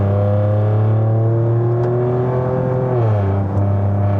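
A Proton X50 fitted with an HKS blow-off valve pulls hard in third gear, its engine drone climbing steadily and loud, then dropping sharply as the throttle lifts, with a brief whoosh of released air.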